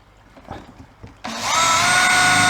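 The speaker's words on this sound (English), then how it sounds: "drill holes in the bottom." A few faint taps and handling sounds, then a power drill whirs up to a loud, steady high-pitched whine as it bores holes through plastic.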